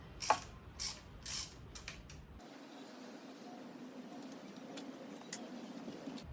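A hand ratchet clicks sharply several times in quick bursts while loosening thread-locked bolts on a Royal Enfield Himalayan motorcycle, close and alone, followed by a low steady mechanical hum.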